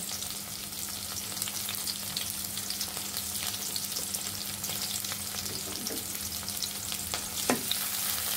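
Nigella seeds and green chillies fry in oil with chopped onions, a steady, soft sizzle with occasional crackles and the faint scrape of stirring.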